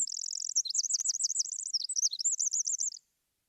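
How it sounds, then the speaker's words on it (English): A wren sings a fast, bubbling song of rapid trills and warbling notes, loud and close, running continuously for about three seconds before stopping. "many birds make amazing sounds like this wren."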